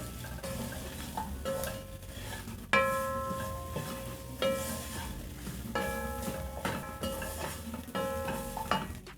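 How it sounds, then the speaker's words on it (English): Beef and spices being stirred in a pot for pilau, with a spoon scraping and clanking against the metal pot in repeated strokes over a soft sizzle, close up. "Stir and let the spices cook together with the meat."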